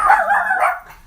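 Dogs give a single short, close bark or yip, loud and on its own, with no talking.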